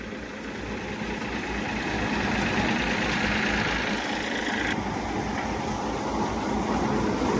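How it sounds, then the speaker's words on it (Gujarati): An Eicher tractor drives a coriander threshing machine on a farm in the morning, giving a continuous heavy rumbling engine drone with a whooshing blower noise running steadily throughout. "આઈસર ટ્રેક્ટર છે ફૂંકણી છે"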